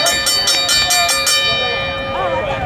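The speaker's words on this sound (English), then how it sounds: "The bell is sounded." Boxing ring bell struck several times in quick succession to start a lucha libre wrestling match at an outdoor festival park in Oconomowoc, Wisconsin, loud and ringing over crowd noise and a commentator's voice.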